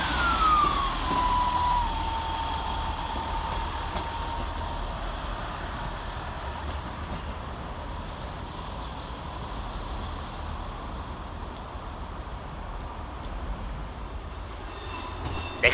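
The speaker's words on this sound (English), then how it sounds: "Departing over on the far side is 158844, departing with a 1202 Northern service to Leeds via Barnsley." A Northern Rail class 158 diesel unit pulls out of Sheffield station on the far platform. A falling wheel squeal opens a long, steady rumble of engine and rolling stock that keeps up throughout.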